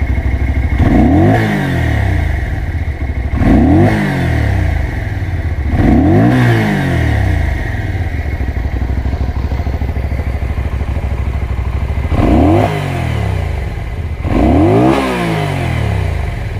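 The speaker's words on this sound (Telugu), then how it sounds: "సో ఎగ్జాస్ట్ నోట్ విన్నారు కదా." A Keeway K Light 250V V-twin motorcycle idles with a deep, steady exhaust burble, revved sharply five times in quick rising-and-falling bursts, loud and close, with no talking.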